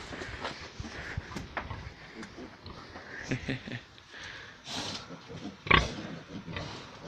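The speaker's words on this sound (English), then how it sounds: "I got pigs in there. Baby pigs over there. Baby pigs in there." Pigs and piglets in a pen snuffle, grunt and squeal in short irregular bursts at close range, with one sharp louder squeal.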